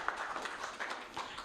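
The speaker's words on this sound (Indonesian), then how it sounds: "Tepuk tangan dulu." Scattered applause from a seated audience at an Indonesian panel discussion, a thin patter of claps, fairly faint and sparse, lasting only a moment.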